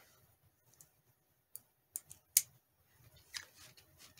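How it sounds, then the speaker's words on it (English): Scissors snip a string on a stuffed bear, giving a few faint, sharp clicks and snips spaced irregularly across a quiet background, with one brighter cut standing out. "Cut this string."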